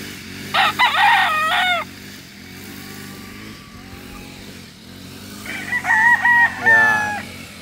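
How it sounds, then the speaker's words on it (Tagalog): A Boston roundhead rooster crows twice, a loud nearby cock-a-doodle-doo at the start and another near the end, over a low background hum of passing engines. "Typical na Boston roundhead."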